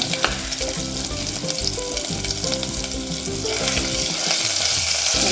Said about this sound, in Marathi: आपण आपलं हे दोन चमचे वाटण टाकून घेऊया आणि ते परतूया